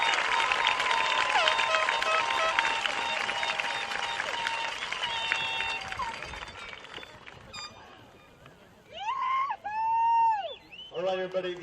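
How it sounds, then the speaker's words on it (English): An audience at a graduation ceremony in a stadium applauds the graduates with highest honors, a loud, dense wash of clapping and cheering that fades out, followed by someone speaking. "please join me in a round of applause in honor of these 33 graduates with highest honors"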